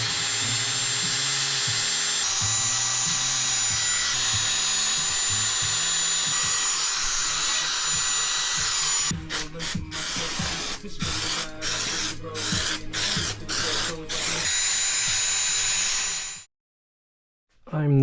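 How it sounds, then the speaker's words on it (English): A drill spins a nylon brush wheel against a BMW M50 intake manifold with a steady, loud whine for several seconds, then is pulsed in a run of short on-off bursts before cutting out abruptly. "I got a set of these brushes. I think they're nylon, so I'm gonna see what happens when I hit it with this."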